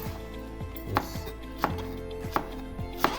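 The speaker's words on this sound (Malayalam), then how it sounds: "ഇത് നമുക്ക് ചെറുതായിട്ട് അരിഞ്ഞ് എടുക്കാം" A knife chops cabbage finely on a cutting board, with sharp thuds landing roughly every two-thirds of a second close up, and no voices.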